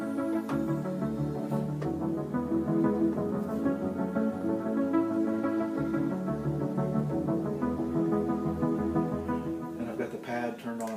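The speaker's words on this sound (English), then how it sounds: "I'm going to start on a pad, I'm going to add some piano, maybe go to a little B3, whatever, and then I've even got an ARP on one of these channels" Korg M3 keyboard workstation layering a sustained pad, piano, B3-style organ and an arpeggiator, playing continuous dense chords with steady level for about eleven seconds and no talking.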